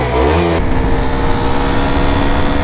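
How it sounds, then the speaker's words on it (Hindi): Aftermarket Duke 390 exhaust fitted to an RC200 motorcycle, revved hard and close up, a loud sustained engine roar that rises sharply at the start then holds steady and raspy. "आयुष भाई का एग्जॉस्ट देखा जा रहा है, जो 390 का एग्जॉस्ट लग रखा है इसके अंदर"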